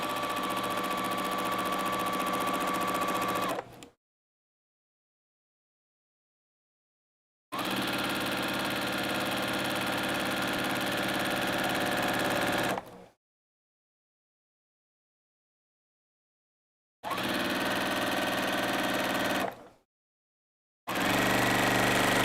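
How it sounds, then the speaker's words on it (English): A sewing machine stitches a pillowcase fabric seam in three separate bursts of steady, close mechanical whirring, each several seconds long and separated by silent pauses, with a fourth burst starting at the end. "I'm going to sew all the way off of the fabric."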